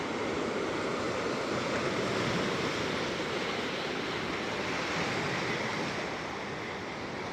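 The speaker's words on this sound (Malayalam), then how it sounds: "അമ്പ നല്ല അടിപൊളി തിരമാലയാട്ടോ വരുന്നത്" Ocean surf breaks on a beach near Pondicherry as a steady, broad wash of crashing waves. Wind rumbles against the microphone throughout, and no voices are heard.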